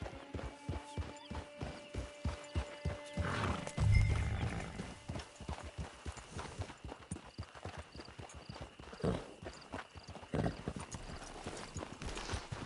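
Horse hooves in Red Dead Redemption 2 clip-clop in a quick, steady rhythm, with a horse whinnying briefly early on; a faint voice speaks under the hoofbeats.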